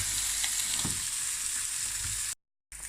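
Eggs fry in a pan for a breakfast sandwich with a steady close sizzle and crackle, fairly quiet, briefly cut off near the end before resuming.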